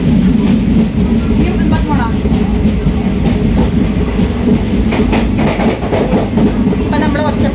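A passenger train runs on the rails near Ottapalam station in Kerala, with a loud, continuous rumble and rhythmic clickety-clack of wheels heard from inside the carriage, no talk over it.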